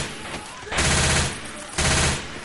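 Two loud bursts of automatic fire from Left 4 Dead 2, each about half a second long with a short gap between them, standing out over quieter in-game sound and brief speech.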